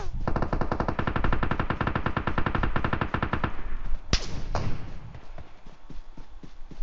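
Automatic rifle fire in the mobile battle-royale game PUBG Mobile, played on an iPad: a long, rapid burst of evenly spaced shots, then a few louder single cracks and scattered distant pops.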